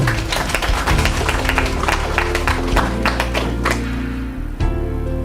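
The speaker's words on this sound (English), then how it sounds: "Clap for yourselves." Attendees at a general meeting of a United Nations association in Greater Accra applaud themselves, loud sustained clapping with sharp individual claps over a low musical hum, tapering off near the end.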